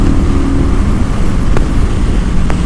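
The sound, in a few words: Vulcan 900 Custom motorcycle accelerating at full throttle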